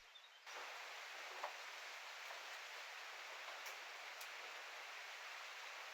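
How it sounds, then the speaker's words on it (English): Mountain rain ambience plays as a steady, soft wash of falling rain with a faint hiss, a few light drop ticks scattered through it, quiet and continuous with no voices. "What's mountain rain? I mean, that sounds perfect. Mountain rain."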